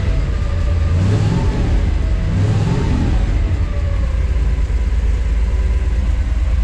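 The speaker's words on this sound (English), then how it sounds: "Oil pressure, just rev it up a little bit." A 1956 Dodge C3-R8 two-ton flatbed stake truck engine, still cold with the choke on, revs up in loud, close swells over a constant heavy mechanical roar.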